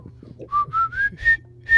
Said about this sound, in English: I knew you wouldn't know the whistle